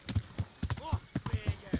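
Horse hooves clip-clop at an even trot in the medieval video game Kingdom Come Deliverance, close and regular, with a voice talking over them and a brief whinny.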